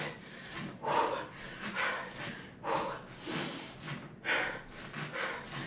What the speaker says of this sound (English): I am breathing hard.